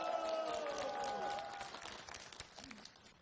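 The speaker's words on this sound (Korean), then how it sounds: "박수로 환영해주세요." An audience claps steadily in welcome as a neurosurgeon is introduced at an outdoor village game-show event in Asan's Jonggok-ri. The applause is loud at first, then thins and fades over about three seconds.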